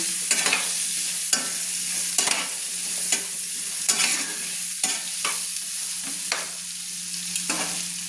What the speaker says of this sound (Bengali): দিয়ে আলুটাকে আমি নেড়ে নিচ্ছি ভালো করে ভাজার জন্য।